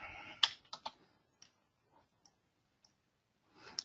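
Mouse clicks in SAP Business One's UI editor, a quick cluster of close, crisp clicks followed by a few sparse, faint ticks and another click at the end, alone in a quiet room.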